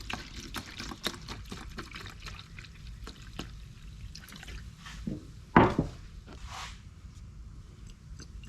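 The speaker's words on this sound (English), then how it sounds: "Pour that in there." Tintable Raptor bed liner liquid pours into a container with a soft, trickling flow, with small knocks and a brief louder splash near the end, heard up close.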